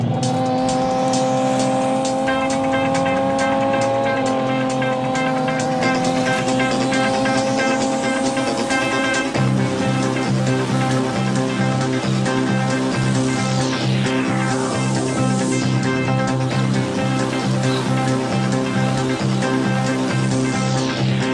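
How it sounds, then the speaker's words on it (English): A Tamiya Holiday Buggy DT02 radio-controlled car on Carson tyres and wheels running on tarmac, its electric motor whining loud and close with rising and falling pitch as it speeds up and slows, continuous throughout with no talk. "it's the Tamiya Holiday Buggy"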